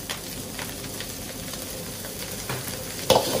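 Nasi goreng, Indonesian fried rice, stir-fried in a pan with satay oil, egg, sambal and kecap manis, giving a steady close sizzle with scraping and stirring, plus a sharper metallic clatter near the end.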